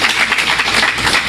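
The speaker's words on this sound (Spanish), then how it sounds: "Un aplauso para Dios, que es tan bueno." A church congregation claps together in a quick burst of applause, bright and steady, close and fairly loud.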